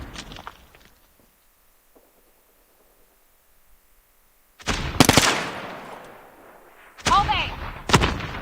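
Gunfire in Call of Duty Mobile: after a near-silent stretch, two loud, dense bursts of shots crack out close up, the second followed by a sharper trailing volley.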